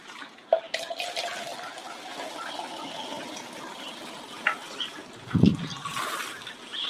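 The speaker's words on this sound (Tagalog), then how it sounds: "at magdidilig ako. Tuyo na naman mga pananim." Garden plants, cucumber, lettuce and water spinach, being watered after drying out: a soft, steady trickle and splash of water with a few sharper drips, fairly faint and continuous, with no talking.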